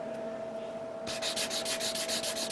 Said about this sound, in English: I'm using this fine sanding stick